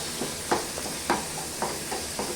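Tomatoes sautéing in a pan sizzle with a steady soft hiss, punctuated by about five louder scraping stirs at roughly half-second intervals, close and fairly quiet with no talk.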